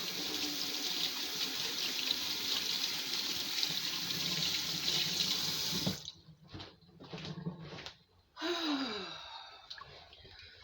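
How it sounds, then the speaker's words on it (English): Water runs steadily from a kitchen tap while hands are washed at the sink, a continuous close splashing rush that stops after about six seconds, followed by a few soft drips, handling noises and a sigh. "Wash the hands."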